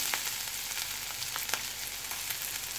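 Ginger dropped into a hot pan with cumin seeds, frying with a steady bright sizzle and small crackling pops scattered throughout, close and continuous.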